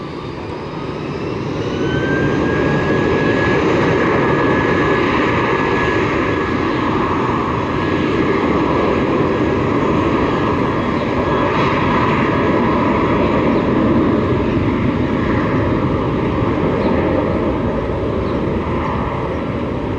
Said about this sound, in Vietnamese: chiếc máy bay Airbus A320 của hãng không Viettravel được lệnh cất cánh